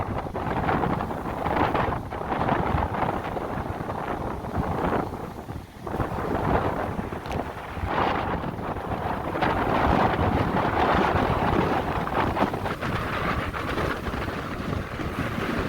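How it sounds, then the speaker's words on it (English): Strong wind after Hurricane Zeta on Dauphin Island, a loud continuous roar buffeting the microphone in heavy gusts, with one brief lull midway and no talk. "So you can see that wind is really still ripping."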